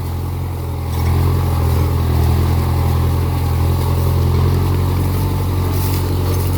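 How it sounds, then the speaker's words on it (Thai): A plowing tractor in a Lao rice paddy during dry-season farming drones loudly and steadily just ahead, its low engine rumble swelling slightly after the first second and then holding constant. "แล่นตามหลังรถไถพี่น้องเอ้ยดูหน้าแซงนี่บาดนี่"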